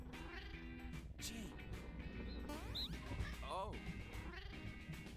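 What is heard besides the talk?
cat meowing in video game No More Heroes 2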